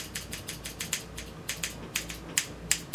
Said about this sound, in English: So let me get my trusty little scissors over here.